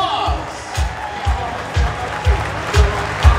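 An audience at a talent show claps for the third place winners, a moderate crowd applause with a regular low thumping pulse running underneath.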